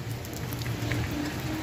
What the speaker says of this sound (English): Guys, can you see rain?